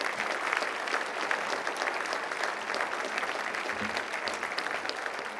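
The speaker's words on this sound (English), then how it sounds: "Come on, let's give them a round of applause." A city meeting audience in Hawthorne gives a round of applause for the city commissioners, a steady wash of many hands clapping at even strength throughout.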